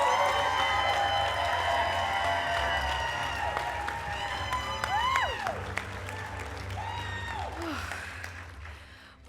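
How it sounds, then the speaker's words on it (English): Steady applause from an awards ceremony audience fills the whole stretch, with a few bright whistles or cheers rising above the clapping. "Let's give her one big round of applause here."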